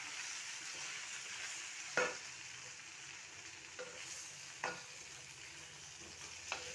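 Sour gongura leaves are stirred into a simmering cooking pot: a soft, steady sizzle with a few distinct knocks of the spoon against the pot, quiet and close, with no talking.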